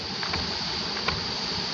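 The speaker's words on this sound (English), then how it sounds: "so windy here" Steady wind roars and rumbles outdoors, a constant broadband rush close to the microphone with no voices.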